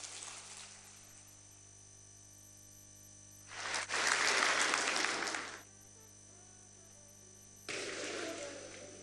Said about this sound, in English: Ladies and gentlemen, please keep clapping